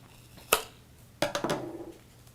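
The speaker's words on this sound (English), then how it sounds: "now we can use our scissors here to cut" Scissors cutting the bottom of a graduation cap box during assembly: a single sharp snip, then a quick run of three crisp snips close by, in a quiet room with no talking.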